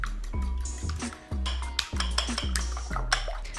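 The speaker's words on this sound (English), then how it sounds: "So I'm just going to add 3 eggs to my bowl and then give them a whisk." Three eggs are whisked in a bowl, a close, rapid, rhythmic run of clinking strokes against the sides with a slightly wet, sloshing edge.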